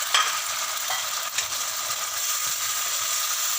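Vegetables sizzle and fry in a pan for a capsicum chicken Alfredo pasta, a steady bright hiss with a few stirring scrapes near the start, close and continuous with no talk.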